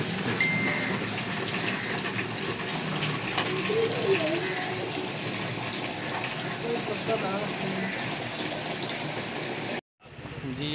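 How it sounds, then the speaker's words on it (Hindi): Water gushes from a village's public supply tap in a loud, steady, unbroken rush that stops abruptly just before the end. "ये इसी तरह सारा गांव जो है यहाँ आकर पानी भर कर ले जाता है"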